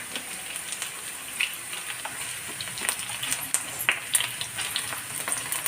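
Potatoes frying in hot oil, a steady soft crackling sizzle with scattered sharper pops, moderately quiet and close, with no talk over it.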